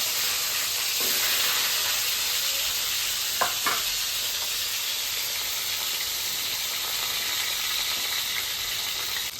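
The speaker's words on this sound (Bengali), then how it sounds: "মাছটা ভাজা হচ্ছে" Tilapia fish frying in hot oil gives off a steady, close, hissing sizzle, interrupted by a few brief clinks and scrapes near the middle, with no talking.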